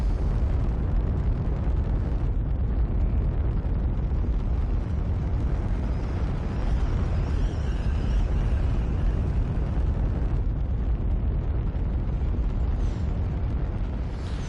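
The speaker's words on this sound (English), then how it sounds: "We do have some fuel left, so we're going to rocket power up." A rocket engine boosting a glider in the UltraWings flight game, a steady loud roaring rush of thrust with wind noise that holds unbroken from start to finish.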